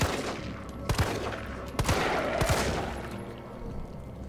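Gunfire aimed at Nemesis in Resident Evil 3: sharp shots spaced out over a dense, roaring game backdrop, with one near burst at about one second, another at nearly two, and a quick double just past two and a half.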